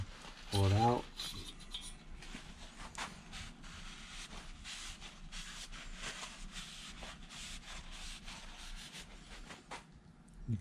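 A valve is lapped into its seat with grinding compound on an air-cooled Volkswagen 041 cylinder head, a continuous close gritty rubbing and scraping that follows a short loud thump at the start.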